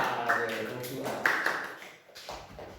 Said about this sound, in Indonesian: Tepuk tangan untuk kelas 207A